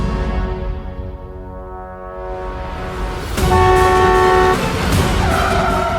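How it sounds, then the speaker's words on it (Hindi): A car pulls up to a house in a Hindi TV drama scene, engine rumbling close by, then sharp car horn blasts ring out loudly over the motor noise. "सूरज साहब की गाड़ी आ गई है"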